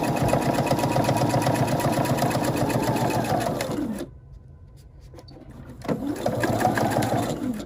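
A sewing machine stitches a fabric Christmas ornament in a fast, steady whirring run. It pauses for about two seconds, then starts stitching again, close and clear.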